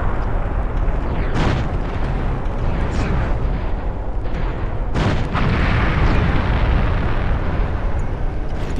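Explosions destroy a fortress in Empire Earth II during a World War II North Africa battle, heavy booms bursting out of a dense rumble of battlefield noise, with two sharp blasts standing out.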